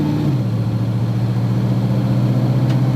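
A car engine with a GM 2004R automatic transmission pulls away under light quarter throttle. It gives a steady mid-pitched drone that drops in pitch early on, as on an upshift, then runs on evenly and fairly loud.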